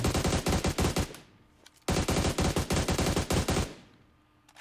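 Automatic gunfire in COD Mobile plays as two close, loud rapid bursts of about a second and a half each, separated by a short gap and ending in a fading tail.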